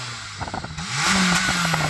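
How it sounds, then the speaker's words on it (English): A Honda Civic Type R EP3 engine idles with a low clatter, then revs sharply and holds a high, steady engine note, close and loud with no talking. "EP3, can you rev up your engine please?"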